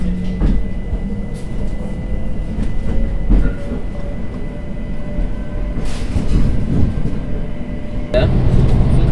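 The Caledonian Sleeper train travels from London to Glen Etive in Scotland. A continuous low rumble of rolling carriages carries faint rhythmic clicks and a few brief louder clanks throughout.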